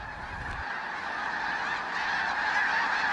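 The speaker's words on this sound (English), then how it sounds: "the snow geese take their cue to leave" Flock of snow geese during spring migration, a dense chorus of overlapping honks from many birds, continuous and moderately loud with no talking.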